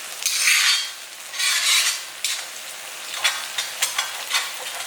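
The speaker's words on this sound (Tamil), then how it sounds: "அந்த ஸ்மால் ஆனியன் அதுக்கப்புறம் பிக் ஆனியன் போட்டு நல்லா வதக்கிக்கணும்." Onions, small shallots and then big onions, sautéing in a pan for Kerala pepper chicken fry, with bursts of sizzling and stirring and a few clinks of a utensil against the pan, close and without talk.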